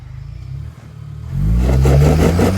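A 2023-or-newer Chevy Colorado truck engine idles, then revs up loudly as it claws over rocks, the steady low drone swelling into a strained, rising roar with clattering underneath.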